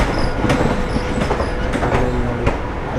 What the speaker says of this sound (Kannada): ಪಕ್ಕದಲ್ಲಿ ಒಂದು ರೈಲು ಹೋಗ್ತದೆ